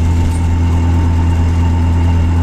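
A Nissan Z car engine idling erratically with a misfire, fitted with used injectors: a loud, close, continuous low rumble with a steady droning hum throughout.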